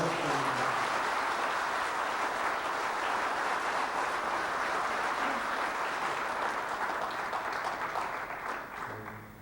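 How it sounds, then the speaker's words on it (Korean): A crowd at a book launch event applauds steadily, with a dense wash of many hands clapping that carries on for several seconds before tapering off. "다시 박수"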